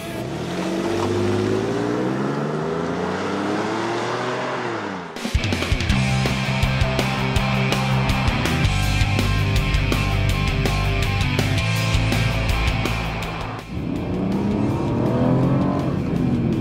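A turbocharged engine in a small crossover SUV, a RAV4, accelerates hard with a loud, rising drone and close rattling intake noise, easing off near the end, with no talk.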